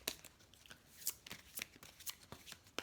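Tarot cards shuffled and drawn by hand, a quick series of crisp riffling snaps and slaps spread across a few seconds, close and fairly quiet with no talking.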